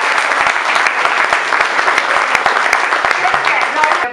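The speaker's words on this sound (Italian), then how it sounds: "Ci vuole un applauso, scusate." An audience at a Red Cross museum dedication ceremony in Chivasso breaks into dense, sustained applause that carries on loudly for several seconds with voices mixed in.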